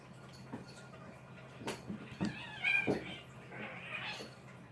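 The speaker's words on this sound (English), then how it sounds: "now my cats are arguing." Two house cats quarrel indoors with short, strained meows and a drawn-out whiny yowl, moderately close over a quiet room hum.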